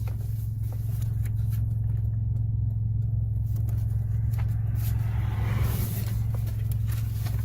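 A car with a loud muffler idles throughout, its steady low exhaust rumble holding constant, with faint background noise and no talk.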